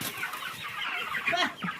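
Chickens clucking nearby in a rural yard: a short burst of overlapping, soft repeated clucks and murmurs at moderate volume with no talk.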